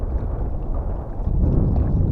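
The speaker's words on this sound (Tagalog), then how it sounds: "So malakas yung hangin saka maulap, no." Strong wind roars steadily across open water under cloudy skies before rain, a dense, close rumble during crab-net fishing from a boat.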